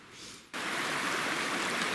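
Creek water rushes steadily at a trail crossing on the Big Stonecoal Trail in Dolly Sods, a faint wash that swells suddenly into a loud, continuous, close babble and stays there.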